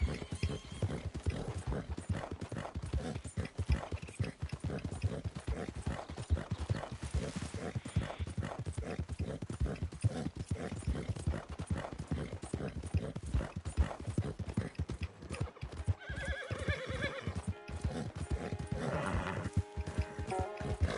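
A horse gallops fast in Red Dead Redemption 2, its hooves pounding in a quick, continuous drumming rhythm up close, with a brief whinny and some game sounds near the end.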